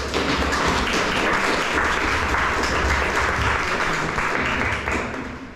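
Around a hundred guests at an opening reception for a festival of books applaud, a loud, full burst of clapping that holds steady and tapers slightly at the end.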